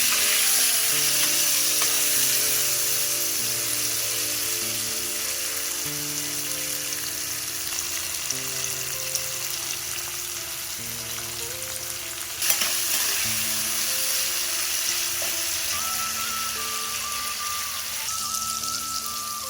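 Diced potato and pumpkin fry together in hot oil in a pan, giving a loud, continuous sizzle with occasional stirring scrapes, steady throughout.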